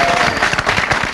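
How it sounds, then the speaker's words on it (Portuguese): A live audience at a television variety show breaks into loud, dense applause, a continuous crackle of many hands clapping close and filling the space. "Uma salva de palmas para o Tony Amado!"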